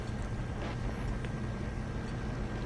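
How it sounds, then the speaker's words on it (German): An ice cream machine hums in the Joe's Diner video game, a steady low rumbling drone with a faint high whine on top and a few soft clicks, holding even throughout. "Das ist die Eismaschine, oder?"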